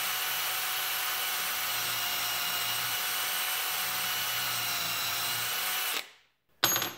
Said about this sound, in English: I'm using a hand drill.